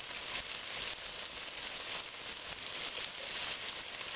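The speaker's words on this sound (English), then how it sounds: "get it all like one even layer and then just let it sizzle for a little bit" Onions and vegetables spread in an even layer sizzle in a pan for a homemade spaghetti sauce, a faint, steady hiss with no talk over it.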